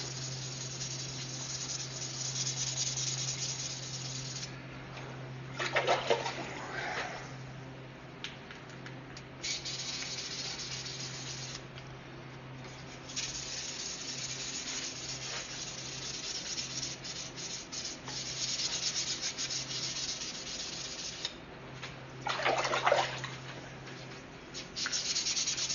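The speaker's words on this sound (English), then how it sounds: "I'm going to lightly sand it and get all the" A knife handle is lightly sanded by hand to remove carbon, soft close rubbing strokes over a steady low hum, with a couple of louder, harsher scrubbing bursts between quieter stretches.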